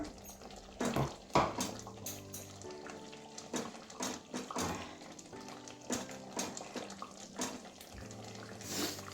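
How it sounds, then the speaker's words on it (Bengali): Hands are rinsed under a running kitchen tap partway through cooking a sesame-oil chicken dish, with uneven bursts of splashing water over steady background sound. "একটু হাতটা ধুয়ে নেবো"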